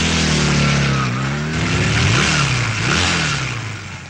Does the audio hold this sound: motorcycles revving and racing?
yes